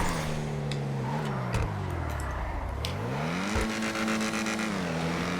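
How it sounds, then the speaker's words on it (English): The exhaust of an Ocelot Jugular four-door sports car in GTA Online rises and falls as the engine revs up, dips and climbs again, throaty and constant, with faint crackles and no talking. "Oh man, can't get enough of that exhaust."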